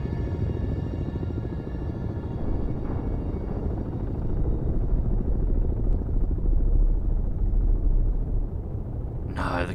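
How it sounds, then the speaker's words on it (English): Helicopter rotor drone in the naval submarine game Cold Waters, a steady low throbbing rumble that holds for the whole stretch and swells slightly midway, with faint noise at the end. "that sounded strangely like a helicopter"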